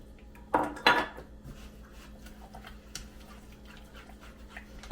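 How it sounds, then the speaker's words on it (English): A single egg is stirred into a mixture in a bowl for a Thanksgiving dish, with a couple of sharp utensil clinks early on, then soft, faint stirring and kitchen clatter against a quiet background. "And it's just one egg. And I'm going to just stir"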